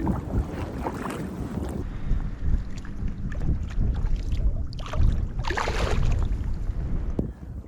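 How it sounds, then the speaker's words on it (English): Wind gusting over open water around a fishing boat in early spring, a steady broad rush with buffeting against the microphone that swells and fades, no voices heard. "Wind's kind of picking up here"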